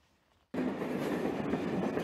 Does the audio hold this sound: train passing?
yes